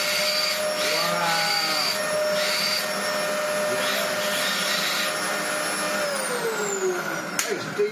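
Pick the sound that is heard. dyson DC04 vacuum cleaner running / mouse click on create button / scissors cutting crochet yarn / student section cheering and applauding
dyson DC04 vacuum cleaner running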